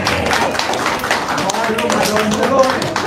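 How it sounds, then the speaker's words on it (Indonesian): An audience claps together during a religious talk, a loud, dense patter of hands mixed with crowd murmur and voices throughout the short stretch. "tepuk tangan dulu dong buat ibu bapak, keren"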